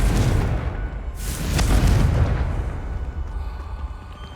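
A Confringo fire spell blasts in the Hogwarts Legacy game, a loud booming explosion that swells around the middle and rumbles away into a fading tail.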